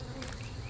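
Honeybees buzz during a hive removal in Winter Haven, Florida, making a dense, continuous drone that is close and steady for the whole brief moment, with no voices.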